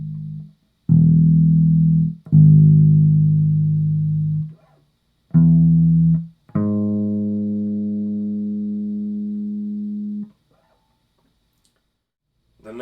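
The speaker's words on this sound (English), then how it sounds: "So the major third is 4 half steps apart, like this." Bass guitar plays a major third interval: separate low notes plucked one after another with gaps, then two notes ringing together in a long sustained tone, clear and close with no talking.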